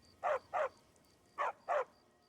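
A stray dog in Skyrim barks in two quick pairs, four sharp, fairly close barks with a short pause between the pairs, over a quiet game background.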